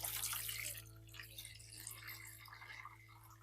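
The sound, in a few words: lukewarm water poured into container for soaking garlic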